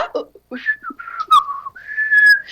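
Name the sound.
person imitating whistling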